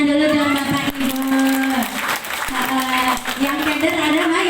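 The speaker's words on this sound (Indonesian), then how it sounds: "Tepuk tangan dulu dong Bapak Ibu." An audience of men and women clapping on cue during a health talk, a burst of hand claps over a strong droning tone, with talk and a voice-like hum running throughout.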